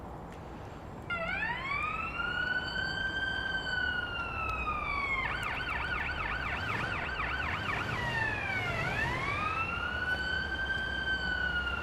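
Wailing ambulance siren in the paramedic simulator game Ambulance Life, rising in long sweeping tones, then switching to a rapid yelp before returning to the slow wail, loud and continuous over steady engine rumble.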